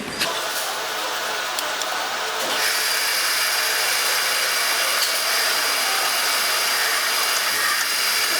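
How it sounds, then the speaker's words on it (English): Power drill boring a hole through a bush for a pin on a mini steam engine build, a continuous close whine that steps up in intensity partway through and holds steady. "Drilling a hole in the bush so this pin can go through"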